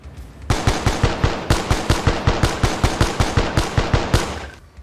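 Rapid automatic gunfire in Call of Duty Black Ops Declassified, about twenty evenly spaced shots in a steady burst, punchy yet somewhat dull and muffled, with no talk.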